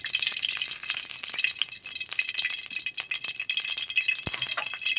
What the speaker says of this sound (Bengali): আমাদের কড়াই গরম হয়ে গেছে, তেল দিয়ে দিব।